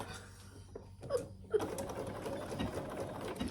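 A domestic sewing machine runs at close range in a short burst and then a steadier stitching whir, with a few small mechanical clicks and no voices.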